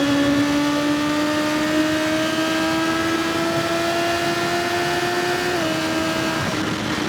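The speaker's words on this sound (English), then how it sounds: "When I'm on 80, I open the gas now." A BMW S1000XR motorcycle engine drones loudly and steadily as the throttle opens near 80, its pitch climbing smoothly and then dropping briefly toward the end, close to the rider.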